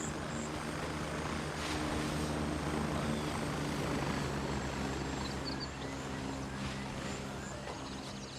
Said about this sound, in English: I do hear a helicopter coming in.